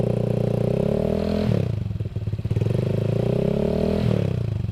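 A Honda ADV 150 scooter with an R9 Alpha exhaust and no dB killer fitted idles with a loud, throaty burble, dips briefly in a quick blip of the throttle, then settles back to a steady rumble, close by.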